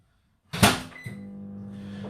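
A budget microwave oven heating an omelette in an omelette maker: a sharp clunk as it starts, then a steady low electrical hum that carries on alone.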